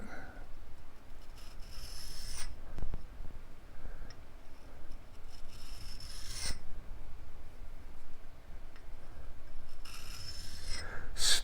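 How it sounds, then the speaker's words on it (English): A drill bit is dressed with a sharpening stone in a machine shop, giving a steady rasping rub that continues through the whole passage, with a few brief louder scrapes and small ticks, close and alone without talk. "Stoning a drill bit here."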